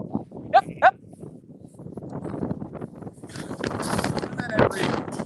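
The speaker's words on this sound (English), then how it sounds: "There they are grazing in the orchard." Sheep grazing in an orchard give two short, clear bleats up close, followed by rustling, wind buffeting the microphone and voices talking.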